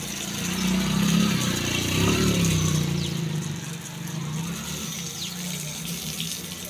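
Steady rushing water sprays and splashes on a cement platform, a continuous hiss with a low engine-like rumble underneath.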